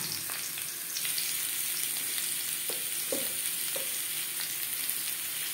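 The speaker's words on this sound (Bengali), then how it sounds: "এবার আমি আলু ভেজে নেব।" Boiled potatoes fry for mutton biryani with a steady, close crackling sizzle that holds throughout, broken by a few soft spatula scrapes and taps against the pan.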